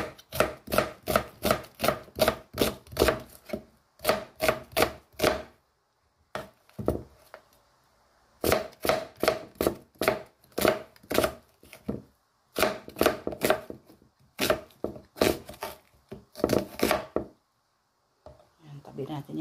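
A whole onion being chopped on a board, a steady run of sharp knife strikes in rapid bursts with short pauses between, close and clear, while cooking a spicy stir-fried fish.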